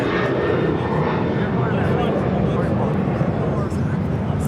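An American Airlines Boeing 737-800 departs LAX for Las Vegas with a loud, continuous jet-engine roar that stays close and steady throughout, while people talk beneath it.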